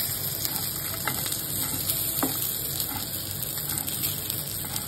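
Mud crabs frying in a pan with a little oil, a steady close sizzle and crackle with faint scraping and stirring, no voices.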